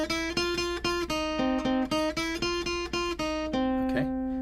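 Guitar picks the second part of a surf riff, rapid evenly spaced single notes repeating in a bouncy pattern, bright and close, ending on a held note.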